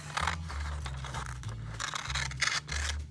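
Scissors cut through paper while a paper snowflake is being made, giving several close, crisp snipping and scraping strokes in an uneven rhythm, with no one talking.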